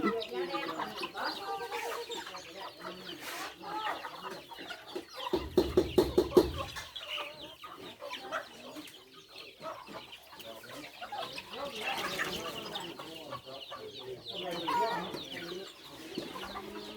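Chickens on a rural Thai village farm cluck intermittently across the scene, with a short burst of sharper fowl calls midway, heard under people talking.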